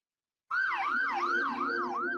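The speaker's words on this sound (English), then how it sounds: "You hear ambulances" An ambulance siren wails in a rising and falling cycle that repeats steadily, fairly clear and moderately loud, starting suddenly after a brief silence.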